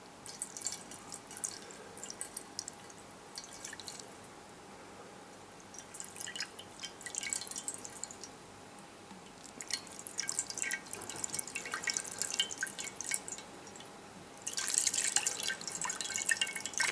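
Water drips and splashes onto a waterproof Cubot X10 smartphone in irregular patters and bursts, faint and close, with no voices.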